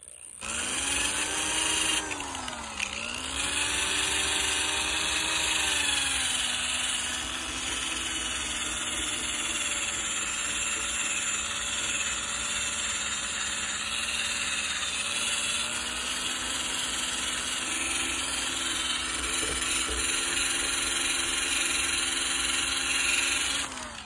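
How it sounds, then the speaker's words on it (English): A rubber eraser wheel on a power tool steadily grinds 3M protective film off an RV body, a continuous loud whirring drone with a wavering pitch that dips briefly near the start and then holds with no talk. "next you're going to want to take your eraser wheel and just go over these little tiny ones"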